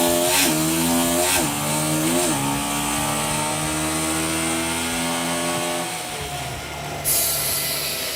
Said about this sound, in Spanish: probar que esté bien la fuerza del motor, que acelere bien la moto